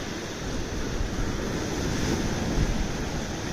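Sea waves splashing on the shore at Tiruchendur, a steady broad roar of surf with wind buffeting the microphone, loud and continuous with no voices.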